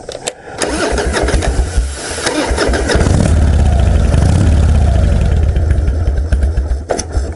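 A Harley-Davidson motorcycle with an Evolution engine cranks, catches and settles into a loud, rumbling, unusually low idle with a lumpy, uneven beat, close by.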